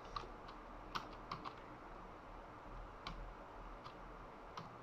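Computer keyboard keys and a mouse click lightly and sparsely at close range in a quiet room, a few separate taps scattered over several seconds with no speech.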